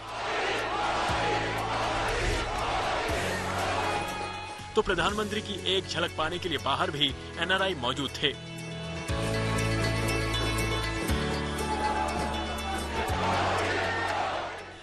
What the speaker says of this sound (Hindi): रह रहकर हॉल तालियों से गूंज उठता और बार बार मोदी मोदी के नारे जोश को दोगुना कर जाते।